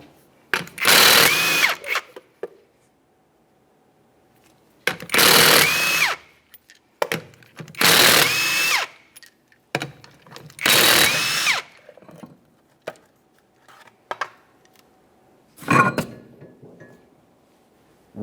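Power impact tool spinning off the 19mm lug nuts on the rear wheel of a 1994-1997 Honda Accord, four loud separate bursts of about a second each with pauses between, then a few short taps near the end.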